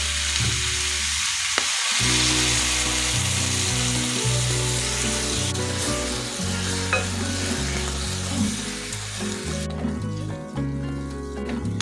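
Mango ginger pickle is stirred in a pan just after vinegar is added. A continuous sizzle runs under intermittent scraping stir strokes, and steady tonal music plays underneath throughout. No one speaks.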